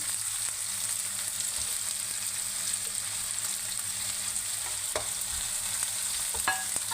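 Cabbage, finely chopped capsicum, potato and onion stir-fry for instant Maggi noodles, a steady moderate sizzle with a couple of sharp spatula scrapes against the pan near the end.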